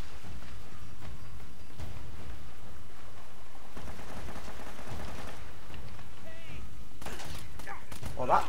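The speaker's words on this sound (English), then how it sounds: "Someone's shooting from down there." Enemy gunfire in the Uncharted video game: a few scattered shots cracking out over a busy, continuous game soundscape, with no single shot standing out strongly.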